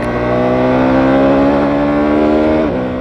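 A Ducati Multistrada V2S motorcycle engine revving past 6,000 RPM gives a loud, steady, buzzy high-rev drone that holds for nearly three seconds, then drops off at the end.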